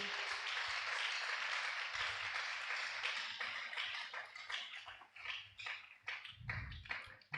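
A church congregation applauds at a worship service, with steady dense clapping throughout that thins and turns more scattered toward the end, along with a few louder individual claps near the close.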